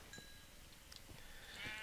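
Sheep bleat in the Minecraft video game, a few brief, faint calls spaced apart over a steady quiet background.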